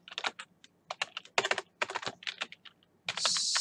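Keystrokes on a computer keyboard, a quick irregular burst of crisp close clicks followed by a short steady hiss, with no voices.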